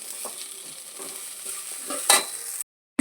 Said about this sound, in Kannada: ಈ ಥರ ಕೆಂಪು ಕಲರ್ ಆಗುವವರೆಗೆ ಫ್ರೈ ಮಾಡ್ತಾ ಇರಿ